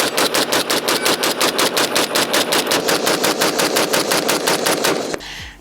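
Rapid, very fast semi-automatic fire from a Springfield Armory M1A SOCOM 16 rifle, about twenty-five loud close shots in an even rhythm over five seconds, then a short clatter as the firing stops.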